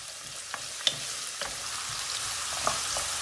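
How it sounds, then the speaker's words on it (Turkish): Carrots frying in hot oil in a pan, a constant crackling hiss broken by a few sharp pops and light stirring clicks. "Havuçlarımız kızarmaya başladı."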